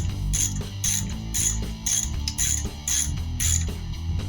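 A ratchet snugs down bolts on a 1974 Chevy Monte Carlo power steering pump, clicking close and loud in a quick, regular rhythm of repeated strokes.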